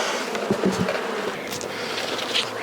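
Honey bees buzzing around an open beehive, a dense close hum with individual bees flying past the microphone.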